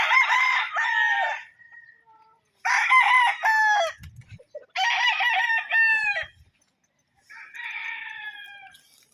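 Gamefowl roosters crow loudly and close by in long, repeated calls at feeding time in the late afternoon, with brief clucks and a few soft knocks in the pauses.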